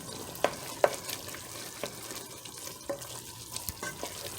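A spoon works flour into a bubbling beef pot pie filling, soft wet sizzling and stirring underneath a few sharp, isolated clinks against the pot.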